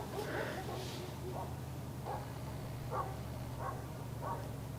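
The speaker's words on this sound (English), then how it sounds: "I hear dogs." Dogs bark in the distance along a roadside stop near Seligman, a few short faint barks spaced out over a steady low background hum.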